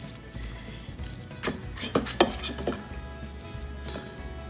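Metal spatula scraping and clinking on a Blackstone griddle while food is mixed, with a few quick scrapes in a cluster over a faint sizzle, close up and fairly quiet.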